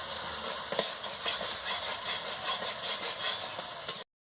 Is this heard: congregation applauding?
no